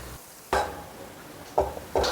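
Sliced onion dropped into hot oil for egg cutlets, with bursts of sizzling and stirring scrapes against the pan at about half a second, one and a half seconds and two seconds, quiet in between.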